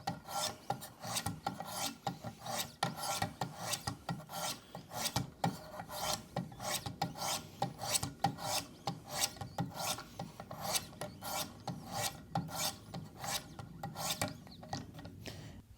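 Schrade PH1 hunting knife drawn across a sharpening stone, a steady run of close, rasping strokes alternating side to side in a quick regular rhythm with no talking.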